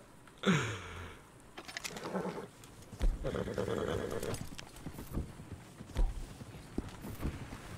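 Horse hooves clip-clop and a horse whinnies near the start in Red Dead Redemption 2, with scattered thumps and muffled movement following over several seconds.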